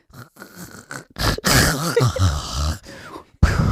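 A voice imitates snoring with a rough, rattling inhale and wheezy throaty rasps over a few seconds, close and moderately loud.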